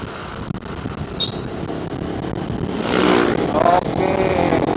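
A Kawasaki W175 motorcycle engine hums steadily as it rides, with rushing wind noise that swells toward the end.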